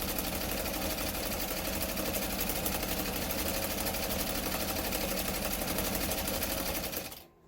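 A White 565 sewing machine stitches continuously with a steady, fast mechanical whir while its stitch width changes, running loud and close before stopping abruptly at the end.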